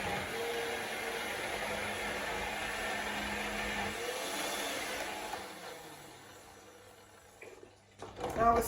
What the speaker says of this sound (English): I'm going to put it all in the blender and blend it up.